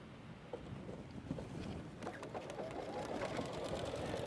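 An embroidery sewing machine stitches a tack-down step on a heat-and-shrink design, a fast, steady mechanical whir of rapid needle strokes, close and moderately quiet, with no talking.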